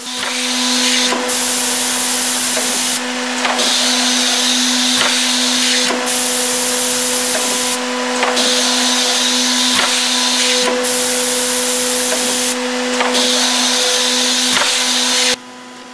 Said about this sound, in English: The machine is shown here in a normal cycle, without parts, to see how it operates.